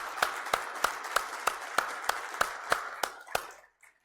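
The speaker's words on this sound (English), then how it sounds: "A nice round of applause" Sparse, faint clapping at an energy forum: about ten evenly spaced claps, the pattern of a few hands rather than a full crowd, tapering off into quiet at the end.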